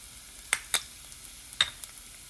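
A few quiet clicks and sharp sizzles rise from ginger and garam masala frying in a pan, scattered bursts over a faint low hiss.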